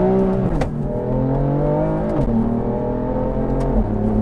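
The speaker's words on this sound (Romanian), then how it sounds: "O turează și după aia o bagă în viteză" A BMW M4 engine, 450 horsepower, revs up loudly and close, then drops as it shifts gears, repeating the climb and shift a few times.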